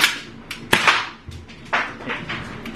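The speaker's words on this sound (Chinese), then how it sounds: "我这把手枪声音才是最大的" Handgun fire at a shooting range: one sharp, close crack stands out near the start, with several weaker snaps and thuds scattered around it.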